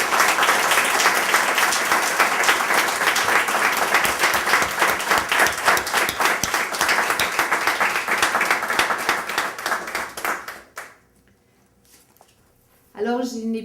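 Audience at a closing session gives loud, sustained applause for about ten seconds, then it cuts off abruptly into near-silence before a brief voice returns at the very end.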